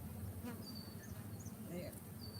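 Honeybees buzzing at an open hive during an inspection, a steady dense drone close by with a few individual bees whining past, no talk.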